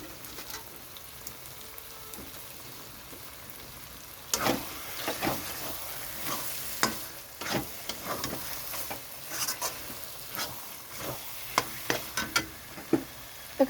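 Chicken with pieces of boiled egg stir-fries in a pan, a low steady sizzle under irregular scraping and tapping strokes that grow busier after a few quiet seconds.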